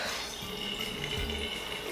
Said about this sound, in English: I just first get the water hot.